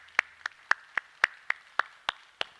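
A church congregation claps at the close of a worship service, about nine sharp, evenly spaced claps ringing out clearly with no talking over them.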